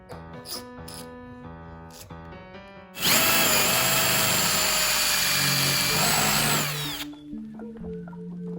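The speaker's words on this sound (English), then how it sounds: "we're just gonna go ahead and drill this out." A loud power drill drills out a screw on a Bird ES-400A scooter, whining steadily for about four seconds, its pitch dipping slightly under load, with quieter workshop clatter before and after.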